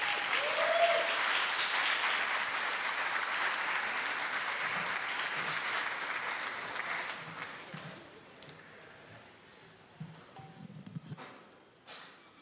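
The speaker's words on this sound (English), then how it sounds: "Let's give him a round of applause, everybody, for Alex." Loud, dense applause from a stand-up comedy audience fills the opening seconds, then thins out into scattered claps and a little crowd noise.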